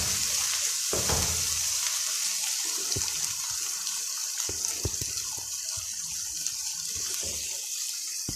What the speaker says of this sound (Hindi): प्याज जो ब्राउन हो चुका है, इसको मुझे थोड़ा और ब्राउन करेंगे।